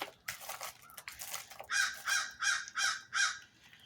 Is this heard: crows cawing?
yes